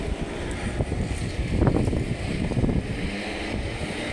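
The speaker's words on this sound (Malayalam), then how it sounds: "കാറ്റ് അടിക്കുന്ന ഒരു മെഷീൻ" A vehicle-mounted air-blowing machine clears grass cuttings off a road in the UK with a loud, steady, rushing roar. The roar holds constant throughout, with no speech.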